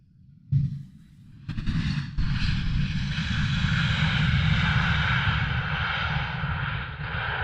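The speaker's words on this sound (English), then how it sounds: "Ryanair coming in." A Ryanair airliner arriving at Luton Airport, heard from nearby as a sudden engine roar that builds into a sustained, loud jet rumble and whine lasting to the end.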